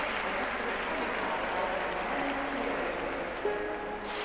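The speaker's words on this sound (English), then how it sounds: "plenty of crowd support here" Crowd cheering at a keirin cycling event in the video game London 2012: a steady, broad wash of applause and cheers from a large stadium audience that holds even throughout, with a faint ping near the end.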